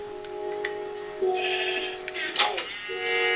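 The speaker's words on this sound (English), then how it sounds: "We trapped the sheep." A Minecraft sheep bleats, trapped in a pen, with steady tonal game sounds and faint clicks running underneath at moderate loudness.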